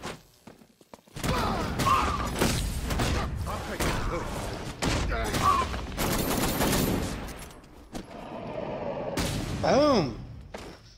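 Rapid gunfire bursts and impacts from the video game Batman Arkham Knight during a bank heist, loud and dense, mixed with thuds and mechanical clanks, ending in a rising tonal whine.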